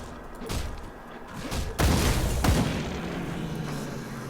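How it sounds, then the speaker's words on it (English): Grenade explosions in the action RPG Grim Dawn, a couple of heavy booming blasts with rumbling tails, moderately loud and without talk. "Just that giant explosion and watching guys fly all over the place."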